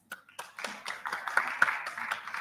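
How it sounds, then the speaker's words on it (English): Applause from an audience at a business conclave stage event, sparse claps at first swelling into steady mid-level clapping over faint background voices. "Can we have some louder applause?"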